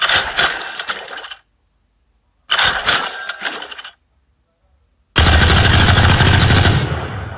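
Weapon fire in the mobile game Valorant Mobile: two loud bursts of rapid automatic shots separated by silence, then a sustained heavy volley that rings out to the end.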